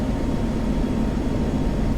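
Steady, loud roar of an F-16 jet engine at full power on the runway during takeoff in DCS World, a continuous rumbling drone with no breaks.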